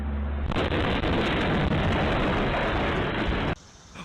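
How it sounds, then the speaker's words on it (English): Security camera footage captures a giant explosion as a sudden loud, broad roar that bursts in after half a second and holds as a sustained rumbling blast for about three seconds before cutting off to quieter background noise. "then you'll see a very giant explosion right here."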